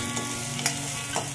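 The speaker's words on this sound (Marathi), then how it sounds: "कढीपत्ता थोडासा फ्राय करून घेऊया" Curry leaves fry in hot oil with a soft, continuous sizzle and crackle, a few brief stirring clicks rising above the steady hiss, with no voices.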